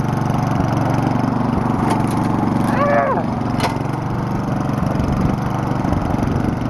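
Lawnmower converted into a brush mower cutting short grass, a steady droning engine hum with brief crackling hits of stems and sticks in the blades.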